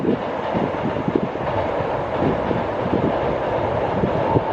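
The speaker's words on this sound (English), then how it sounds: "You can see the trains running in both directions." Trains run in both directions along an elevated line in Osaka, a steady rolling rumble with rhythmic clickety-clack from the wheels and some wind noise, continuous and fairly close throughout.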